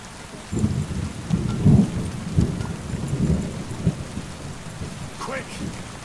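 Rain falls steadily in the medieval game Kingdom Come Deliverance while low thunder rumbles and rolls through the middle of it, loud and close, with no voices.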